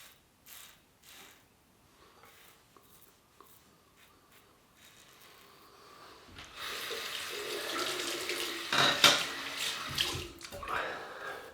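A tap runs for shaving, its flow building from faint trickles and clinks into a louder, steady splashing stream near the end.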